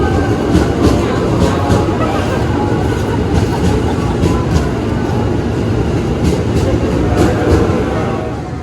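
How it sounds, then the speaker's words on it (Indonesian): A KRL commuter train bound for Depok and Bogor pulls into Manggarai station, its loud rumble steady with rhythmic clicking wheel beats over rail joints, heard close from the platform end. "ini kereta api yang ke arah Depok maupun Bogor datang lagi"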